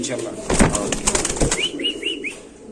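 Pigeons in a cage at a bird market, with wing flapping and rustling up close and a few short chirpy calls, amid background market noise.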